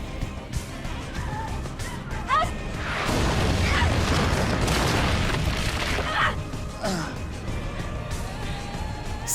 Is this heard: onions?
no